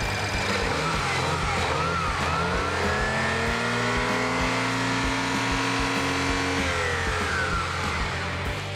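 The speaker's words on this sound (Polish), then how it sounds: "postanowiliśmy zgrać dźwięk prosto z tego silnika, bez żadnych osłon" A BMW i8 engine runs with its covers removed, a steady loud mechanical drone with rising and falling tones as revs change, continuous and close throughout.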